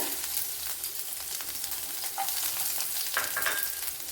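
Garlic cloves and small pieces of ginger sizzling in two tablespoons of hot coconut oil, a steady dense frying crackle with occasional sharper pops, close and continuous throughout.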